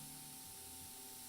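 Spray paint hissing in a steady, close burst from a held-down aerosol can, aimed straight on at a memorial portrait, lasting just over a second.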